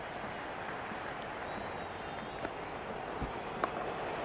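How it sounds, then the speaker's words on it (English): A cricket stadium crowd roars during India's chase against New Zealand, a steady, dense wash of distant cheering and clapping with a couple of brief sharper claps standing out. "It's evident and ever so audible that the crowd is at near bursting point at today's play."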